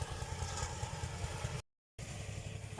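A rice thresher machine's engine running beside a rice paddy, a steady mid-pitched motor drone heard alone that cuts out briefly before resuming.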